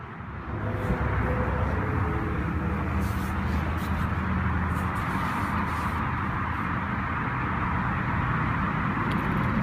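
A Lamborghini Huracán LP610-4 engine starts with a sudden onset, then settles into a steady, loud, deep idle rumble that holds unchanged to the end.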